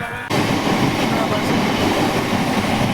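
A train runs on the Khirai to Balichak line, its loud, steady rumble and rail clatter starting abruptly after a brief quiet moment and continuing close by without a break.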